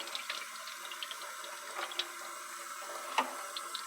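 Tap water runs steadily into a sink while peppers are rinsed and tossed under the stream, a continuous close splashing wash with small clinks and bumps as the vegetables move.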